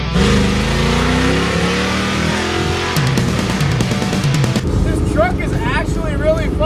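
An 1982 Ford F100 single-cab short-bed race truck with a step side and a 351 Windsor V8, engine revving and roaring loudly up close, rising and falling, with voices talking over it toward the end.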